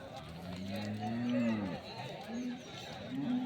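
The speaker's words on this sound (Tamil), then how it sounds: "இங்கே பார்த்தீங்கன்னா 2 மாடுங்க வாங்கிட்டு வந்துட்டுருக்காங்க." Cattle lowing at the Bagalur cow market near Hosur, several drawn-out moos rising and falling over a busy outdoor background, with people talking nearby.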